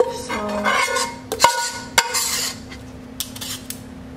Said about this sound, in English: I just take my knife just to make sure that I clean out everything off the spoon